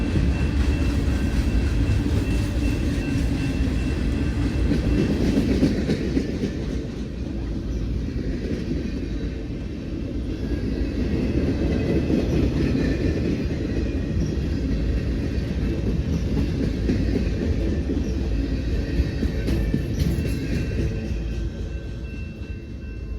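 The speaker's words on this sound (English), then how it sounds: "with a very sizable cut of boxcars on the end of the train" A long freight train of mixed junk freight and intermodal cars with a big cut of boxcars at the end rolls past nearby, a steady loud rumble and rattle of wheels on rail throughout with no talk.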